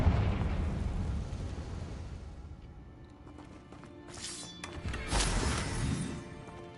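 A Confringo blasting spell goes off in a Harry Potter video game: a fading rumbling blast, then two sharp bursts of crackling debris, moderately loud and close.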